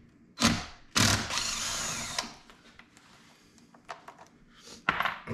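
Power tool driving out the three Allen screws on a Polaris 700 engine's stator cover, heard as a few short close bursts of whirring and thunking with pauses between.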